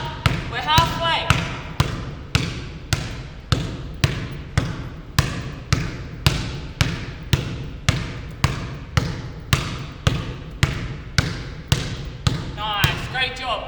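A basketball thumps steadily against the floor in an even rhythm of roughly one bounce per second, loud and close, continuing for over a dozen bounces.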